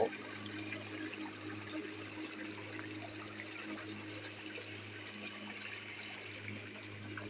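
Continuous rush of flowing water with a low steady hum underneath, unbroken and fairly even throughout.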